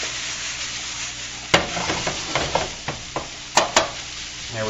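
Pork sizzles in a pan for fried rice while a utensil stirs and scrapes it, giving a steady hiss with several sharp clinks and scrapes scattered through, close and clear.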